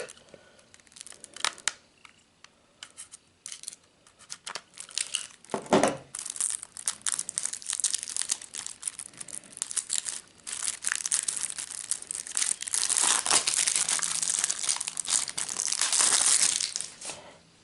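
Tape being peeled off a Star Wars Phantom Menace soundtrack CD package: sporadic crinkling and plastic crackles that build into a long, loud stretch of ripping and crumpling near the end, fairly close.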